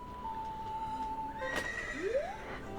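A horse in a video game lets out a long, loud whinny that wavers and then rises sharply at the end, heard alone over faint background ambience.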